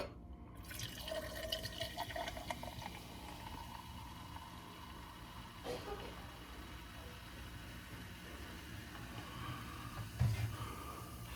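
Dr Pepper poured into a glass holding pickles, a steady quiet fill of liquid running for several seconds with faint trickling, a soft knock near the end.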